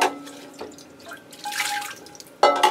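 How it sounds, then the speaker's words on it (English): Water drips and trickles from a freshly watered orchid pot into a catch basin, a close, wet patter that thins out and then splashes briefly again. "So you can see the water stops dripping quite quickly."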